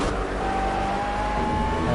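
GT3 race cars, including an Audi and a McLaren, lap Laguna Seca in a racing video game, their engines droning loudly and steadily as one sustained roar with a faint whine, without talk.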